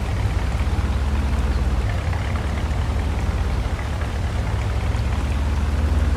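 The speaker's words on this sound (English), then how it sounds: "Oh, it's raining." Steady, even rainfall in the farming video game Farming Simulator 22, a dense continuous hiss with low rumble that holds at the same level throughout, with no voices.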